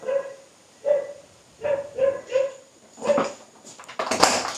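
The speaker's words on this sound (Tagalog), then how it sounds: "So, yung aso, tinatahulan ako." A dog barks repeatedly in a steady series of sharp, mid-pitched barks, fairly close, ending with a burst of rustling noise.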